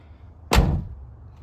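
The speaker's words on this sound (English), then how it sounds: "No effort whatsoever into that driver's door shut" A single solid thud as the driver's door of a 1993 Ford Probe GT shuts close by, short and muffled, followed by a quiet fade.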